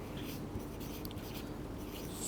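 Chalk or marker strokes on a lecture-hall board, a soft continuous scratchy rub with short squeaky flicks, faint and close, with no voices over it.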